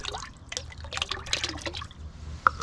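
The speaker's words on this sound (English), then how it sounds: "Here I've got a bit of liquid kelp. I'm just going to put a glug in there." Liquid kelp fertilizer is glugged into a watering can in a brief, quiet pour of trickling, dripping liquid with a small splash near the end.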